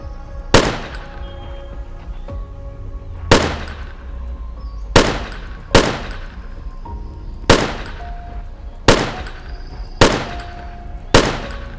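Single loud gunshots ring out in the zombie survival video game Zompiercer, eight or so sharp blasts spaced a second or two apart, each with a short echoing decay, with no talking.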